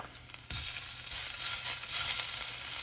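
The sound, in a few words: pork and onions sizzling in pan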